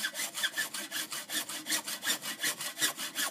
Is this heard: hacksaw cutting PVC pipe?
yes